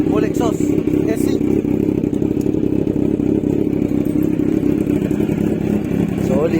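A Kawasaki Z1000 R fitted with an SC Project full titanium exhaust rumbles steadily at idle, a deep, close engine drone running under people talking.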